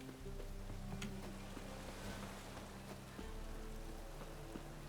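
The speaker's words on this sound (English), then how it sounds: "Looks like rain." Rain falls in The Witcher 3 video game, a steady even patter hissing throughout under low droning ambient game tones, with no voices.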